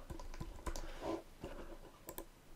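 Close computer keyboard typing as a zip code is entered: a few separate crisp key taps spread unevenly over a quiet room background, with no talking.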